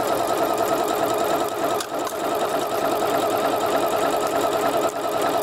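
A domestic sewing machine runs steadily while stitching stretch fabric, a continuous loud mechanical whirring hum with one brief dip mid-run and no voices.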